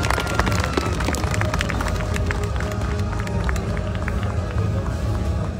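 Outdoor crowd applauding and cheering for a sled-dog musher standing on the podium at a Grande Odyssée presentation event, steady clapping mixed with crowd noise and a low rumble of background activity.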